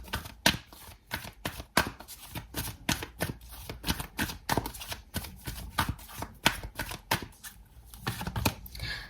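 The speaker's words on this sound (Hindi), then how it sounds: "एक कार्ड लेंगे as a guidance from wisdom oracle deck." Wisdom Oracle deck cards being shuffled by hand, a long run of crisp, rapid riffling bursts in a regular rhythm, close and fairly quiet with no voices.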